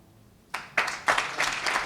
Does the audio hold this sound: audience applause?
yes